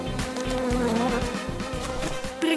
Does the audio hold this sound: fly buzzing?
yes